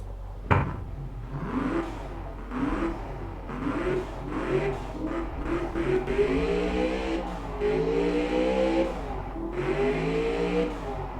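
A car engine in the game Automation: The Car Company Tycoon revs up with rising and falling pitch as it accelerates through gears, steady and close, with a brief knock at the start.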